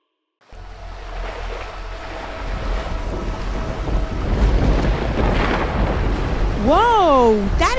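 Thunder from a lightning strike swells into a deep, loud rumble that builds and rolls on, with a rising tonal whine laid over the end.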